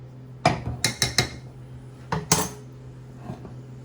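A basting spoon clinks against a pan while melted butter is spooned over a sole fillet, giving a quick run of sharp metallic knocks, a pause, then a few more, over a low steady hum with no talk.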